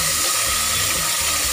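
Raw peanuts fry in oil in a pan until browned, giving a steady, close hiss and crackle of sizzling throughout, with a brief stir or clink near the end.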